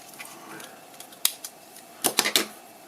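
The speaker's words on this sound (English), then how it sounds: "So there should be a little click." A Game Boy Advance cartridge case pulled open gives a few small, close plastic clicks and snaps, faint and sharp, clustered near the end.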